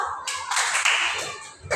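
A classroom group gives a patterned cheer clap for the winning team, short bursts of hand claps that start and stop with brief gaps between them, near and fairly loud.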